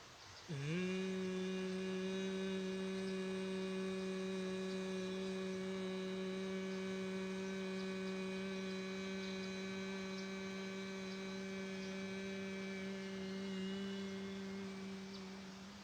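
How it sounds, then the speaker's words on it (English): Steady, sustained humming exhalation of a yoga bhramari-style breathing exercise, one long continuous tone held for about fifteen seconds, close and clear with no talking over it. "While exhalation, try to create the humming sound or makar sound."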